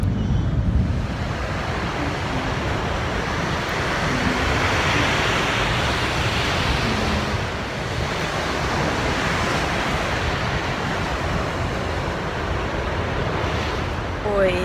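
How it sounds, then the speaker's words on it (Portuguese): Ocean surf breaks steadily on a beach, a continuous broad wash of rolling waves with some wind noise, loud and close throughout without pause. "estou a sair agora da praia"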